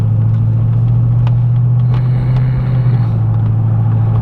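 Inside a 1996 Chevrolet Impala SS, the engine and exhaust hold a loud, steady low drone with a constant deep hum. The level stays even, with no talk over it.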